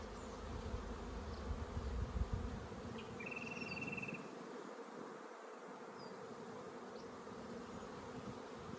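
Honeybees buzz steadily around an open Flow Hive 2 brood box as a nucleus colony is transferred in, a dense, continuous hum close by with no talking.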